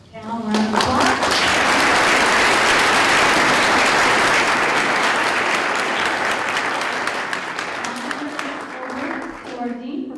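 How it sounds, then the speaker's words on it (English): A conference audience gives a panel on utilities a long round of applause, loud and dense throughout and easing slightly near the end, with a voice speaking briefly at the start and finish. "Let's give our panel a round of applause."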